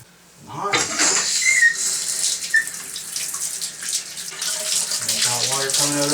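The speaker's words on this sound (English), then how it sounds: "Hot water coming out already." Hot water gushing from a repaired stem-valve tap, starting abruptly after a short silence and running as a loud, close splashing stream with a faint whistling tone in the pipes.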